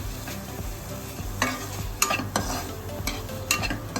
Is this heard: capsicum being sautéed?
yes